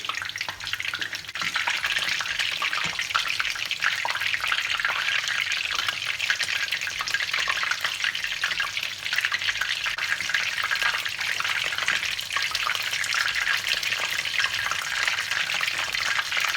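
Battered basa fish fillets fry in hot oil for tempura, giving a steady, dense sizzle that continues without a break and without talk.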